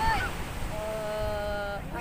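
Surf washes steadily onto Santolo beach in Garut, a continuous broadband roar of breaking waves under a hot midday sky, with faint tonal sounds drifting in from a distance.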